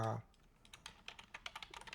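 Typing on a computer keyboard follows a brief spoken word, with quick irregular key clicks that are close and fairly soft.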